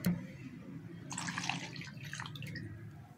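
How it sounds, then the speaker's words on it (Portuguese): Alcohol, 100 ml, poured from a small cup, making a short close trickle and splash of liquid that swells in the middle and tapers off, ending in a sudden knock. "agora eu vou colocar os 100 ml de álcool"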